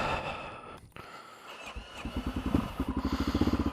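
A dual sport motorcycle engine coughs, catches and settles into a rapid, throbbing idle with the choke on, rising from faint rumbles to a steady pulsing putter nearby.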